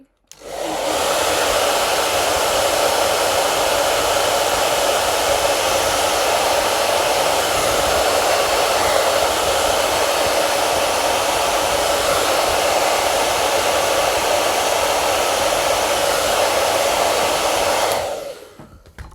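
A hair dryer blows steadily for nearly twenty seconds, drying a watercolor painting of an urban landscape; the loud, continuous airy whir starts and stops abruptly with no talking.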